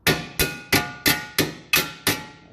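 Hammer blows on a metal coupe/landau quarter panel section, seven sharp ringing strikes at a steady, roughly even pace, loud and close with short metallic decays and no talking.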